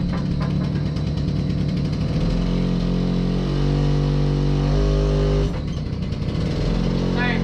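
A car with a 1.8T engine idles and is driven out of a garage, a loud close rumbling engine note that rises briefly in revs before settling, with people talking over it.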